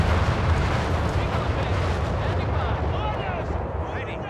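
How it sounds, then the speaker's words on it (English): An artillery barrage and heavy bomb explosions in the World War II strategy game Company of Heroes 3, a dense, continuous low rumble of overlapping blasts, with a voice talking over it. "Big incoming mid, watch out, big artillery barrage"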